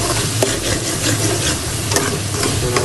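Chilli powder hits hot oil while masala fries for channa masala, giving a loud, steady, close sizzle with faint stirring scrapes throughout and no voices.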